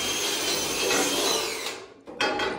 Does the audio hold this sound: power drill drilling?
yes